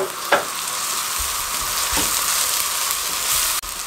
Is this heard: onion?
yes